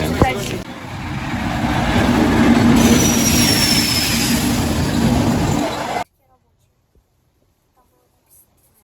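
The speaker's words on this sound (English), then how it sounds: "Here comes our train." A train in Tula, Russia, rumbles in close and loud with squealing wheels and rushing noise, then the sound cuts off abruptly into near silence.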